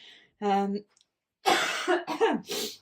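A few harsh, raspy coughs, close and loud, come in quick bursts after a short faint breath.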